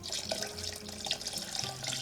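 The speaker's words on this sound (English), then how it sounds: "I'm just going to pour it in and spill it all over the place" About half a liter of liquid is poured into a batch of hopped mead, a steady splashing, gurgling stream that runs close and fairly loud for about two seconds with no talking.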